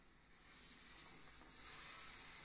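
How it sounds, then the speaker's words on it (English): A garment steamer hisses in a steady, continuous jet as it passes over the gathered layers of a wedding gown's skirt, close by and fairly loud, with a slight swell partway through. "I'm just gonna run the steamer over."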